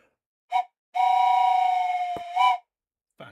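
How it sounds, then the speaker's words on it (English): A train steam whistle sound effect gives a short toot, then a long sustained blast ending in a rising swell, with a brief hiss-like burst at the start and end, loud and clear with no talk. "A little bit of a train whistly goodness."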